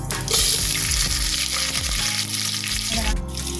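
Cumin, onion and green chili fry in hot oil, giving a steady close sizzle with bursts of spattering and faint stirring throughout.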